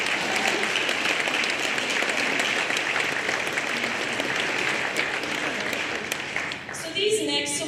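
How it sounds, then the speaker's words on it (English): A senior awards night audience applauds, a steady, full wash of clapping that holds for several seconds before easing slightly, with voices briefly audible near the end. "Let's give them a round of applause for their never-ending support"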